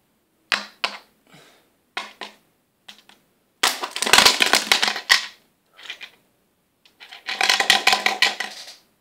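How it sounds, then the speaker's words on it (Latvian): A coin rattles into a glass bottle during a magic trick, heard as scattered sharp clicks and taps followed by two longer bursts of clattering, rattling noise, with no one talking. "Monēta iekļuva iekšā pudelē."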